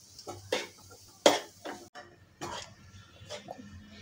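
Ghee being stirred into a sugar mixture in a pan for bal mithai, heard as a few quiet scrapes and clinks of a spoon against the pan, spaced irregularly with soft stirring between.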